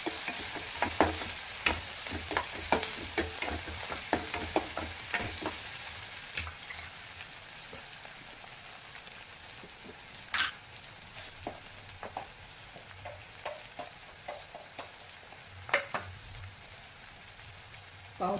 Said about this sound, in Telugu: అలాగే కొద్దిగా అల్లం వెల్లుల్లి పేస్ట్, కొంచెం పుదీనా వేసుకొని పచ్చివాసన పోయేంత వరకు కలుపుకోవాలి.